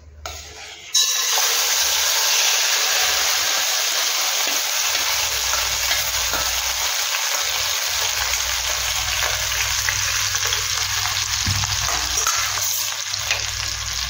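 Grated apple for apple halwa frying in a pan, a loud, continuous hiss of sizzling moisture that starts abruptly and holds steady, with occasional faint stirring and no talk.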